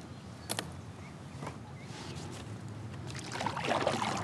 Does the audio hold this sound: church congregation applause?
no